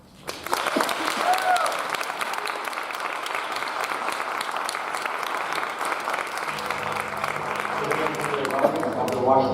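An audience at a Pan-Asian American Heritage Month keynote applauds to welcome journalist Jose Antonio Vargas, steady clapping from a crowd in a hall that builds after a brief spoken introduction and continues throughout.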